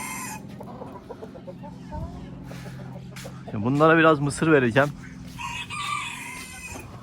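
Brahma hens and a rooster on a farm cluck and call nearby, with a louder burst of squawking in the middle, while someone talks over the birds.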